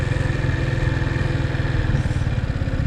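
A motorcycle engine idles close by with a steady, loud, throbbing mechanical pulse that holds an even rhythm throughout, with no talking over it.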